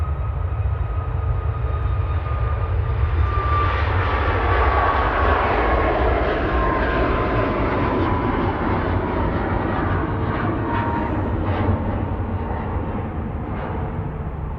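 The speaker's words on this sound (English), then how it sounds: "as the Ryanair to Alicante departs" A Ryanair jet bound for Alicante departs Manchester Airport with a loud, continuous engine roar. The deep rumble and hiss hold steady and slowly shift in pitch as the aircraft passes.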